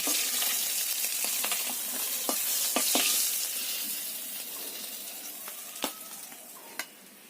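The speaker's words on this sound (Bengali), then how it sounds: "খুব একটা বেশি ভাজবো না ইলিশ মাছ" Hilsa fish pieces fry in hot oil in a home kitchen, giving a steady, fairly quiet sizzle with a few sharp clicks and taps from a spatula or utensil.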